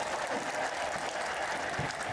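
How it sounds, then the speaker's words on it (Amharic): Congregation clapping inside St. Michael's cathedral in Mekanisa during a sermon, a dense, even patter of many hands, moderately distant, holding steady for a couple of seconds. "አጨብጭቡለት።"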